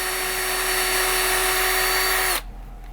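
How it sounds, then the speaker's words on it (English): An electric drill, not set to hammer mode, runs gently into stone during a historic masonry repair. It gives a steady, close, high-pitched whine that holds for over two seconds and then stops abruptly. "just gently drilling into that surface"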